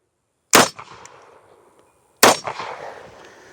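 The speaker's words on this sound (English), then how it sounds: "Okay, another hang fire." Two sharp, loud CZ-52 pistol shots fired outdoors about a second and a half apart after a hang fire with faulty ammunition, each a crisp crack followed by a short echoing decay, with no talking.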